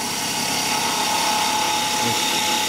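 A roughing gouge rides its bevel along spinning wood on a lathe while a wooden sword is turned, giving a steady, even cutting hum with no breaks.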